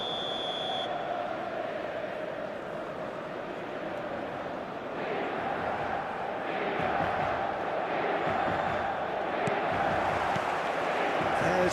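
A stadium crowd in the eFootball video game makes a dense, continuous roar that swells slightly toward the end, with a commentator talking over it.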